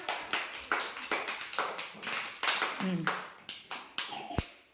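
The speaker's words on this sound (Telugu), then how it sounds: "వెరీ గుడ్ క్లాప్స్ కొట్టండి నాన్న" Children at an anganwadi clapping in quick repeated rounds for a correct puzzle answer, sharp close claps in uneven bursts with someone speaking between them.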